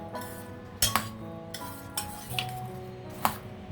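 Chopped fruit for fruit custard being stirred in a bowl with a spoon, giving a few sharp clinks of metal against the dish between softer scraping and stirring, close by with a faint background hum.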